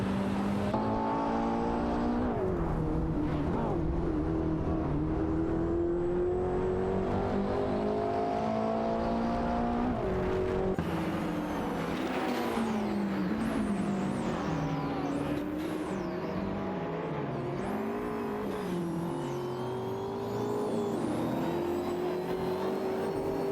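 Racing cars in an AI racing video game roar continuously at the start of a race, engines revving and shifting pitch as several cars accelerate and pass one another, loud and steady throughout.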